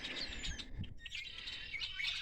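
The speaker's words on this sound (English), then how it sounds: "They're the red wing blackbirds." Red-winged blackbirds, migratory birds visiting a home yard, chirp and tweet in quick overlapping calls close by, with a steady wash of bird song throughout and no talking.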